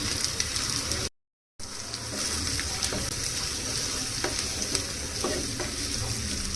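Ginger garlic paste and pureed tomato sauté in hot oil with a steady, loud sizzle, and a spoon stirs through the pan close by. The sound cuts out briefly, and no one speaks.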